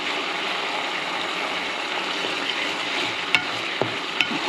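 General Tso's sauce simmering and bubbling in a pan, a steady close sizzle with a few sharp clinks of a utensil against the pan near the end.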